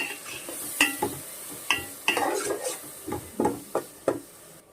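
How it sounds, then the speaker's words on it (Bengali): Ground spices such as cumin and coriander powder frying in a pan, stirred with sharp scraping clatters of a spoon against the metal over a soft sizzle, close up and irregular. "এবার ভালো করে মশলা ভেজে নেব"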